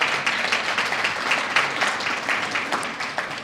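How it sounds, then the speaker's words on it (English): A crowd claps steadily throughout, a moderate round of applause with no talking. "round of applause to them"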